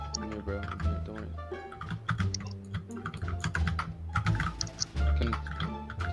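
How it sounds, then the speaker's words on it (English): Rapid, clattering computer keyboard typing during a PlayerUnknown's Battlegrounds game session, dense irregular key clicks running throughout, close and loud, with people talking over it. "Keyboard, can you shut up?"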